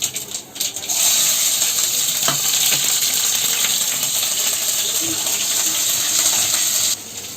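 Cumin seeds and green chillies sizzle and crackle in hot ghee or oil, a dense, steady frying hiss with scattered pops that starts abruptly and cuts off near the end.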